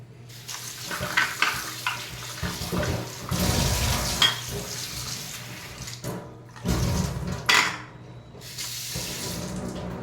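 Dates washed and soaked in a bowl of water: splashing and swishing in bursts with brief pauses, close and moderately loud, no talking.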